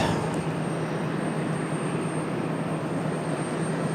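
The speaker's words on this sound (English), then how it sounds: "Got that Bombardier coming in from Bedford." A Bombardier jet arriving at Raleigh-Durham from Bedford gives a steady, distant broadband roar with a faint high whine, constant throughout and with no talk.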